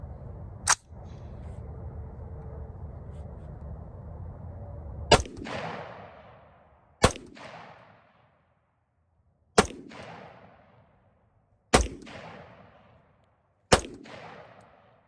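Rifle shots from a PSA Freedom 16-inch upper, six sharp loud reports spaced a few seconds apart, each ringing out with a short echoing decay over a low steady background hum early on.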